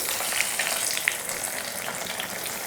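Leftover idli and potato snack pieces frying in hot oil, a steady dense sizzle and crackle throughout with faint stirring clinks, close and even in level, with no talking.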